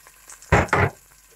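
Chopped onion rubbed with black pepper is stirred in hot oil in a pot, giving two short, loud surges of sizzling, close and alone, with a brief gap between them.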